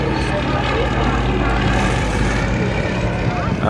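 Fairey Swordfish propeller biplane carrying a torpedo, flying past at a seaside air show, with a steady, loud engine drone and broadband wind and crowd noise throughout, under low background chatter.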